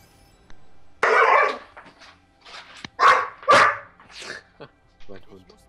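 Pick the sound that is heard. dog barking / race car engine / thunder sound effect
dog barking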